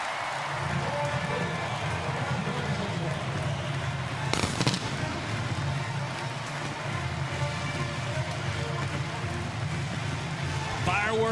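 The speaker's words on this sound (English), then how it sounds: "Fireworks at the Palace." Fireworks go off in an Oklahoma football stadium after a touchdown against Illinois State, with a sharp burst rising above a constant roar of crowd noise and announcer talk.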